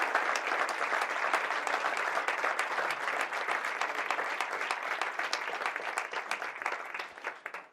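Loud, sustained applause from a conference audience in Jumilla, dense clapping filling the room at an even level for several seconds before tapering slightly at the end, with no speech over it.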